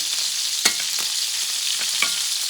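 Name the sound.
petite sirloin steak sizzling, basted with butter and garlic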